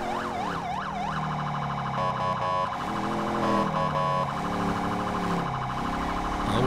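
In GTA 5, a police car's siren wails and yelps continuously, loud and near, with blasts of the electronic air horn cutting in partway through.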